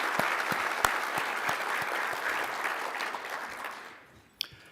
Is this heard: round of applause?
yes